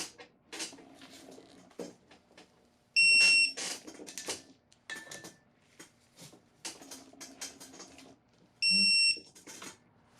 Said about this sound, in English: it's really cool how it lights up and you get the beep, so you're not guessing when you're close to your torque